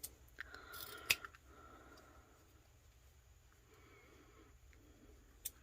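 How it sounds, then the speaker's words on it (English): Scissors cutting ribbon tail pieces into a V, a few crisp close snips, one sharp cut standing out early and another at the very end, amid quiet rustling. "I think I want my tail pieces cut at a V."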